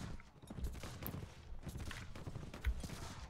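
Faint volleys of gunfire in a Mount & Blade: With Fire and Sword battle, scattered cracks and pops over a low, busy din.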